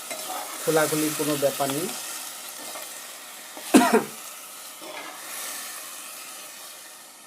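Goat meat frying in a pot, stirred in a few scraping bursts with a brief cough between them and quiet sizzling fading after, a voice speaking briefly.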